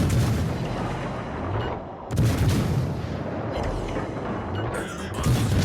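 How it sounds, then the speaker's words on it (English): Macro cannon broadsides in a space-battle video game fire as a dense, continuous barrage of heavy booms and rumbling blasts, loud and sustained with brief dips between volleys. "Servitors, to the macro cannon!"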